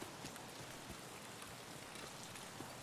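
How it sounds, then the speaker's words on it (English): Heavy rain pours down steadily, a faint, even hiss of water with scattered drop impacts, heard from a distance without any voices. "Man, it is pouring rain."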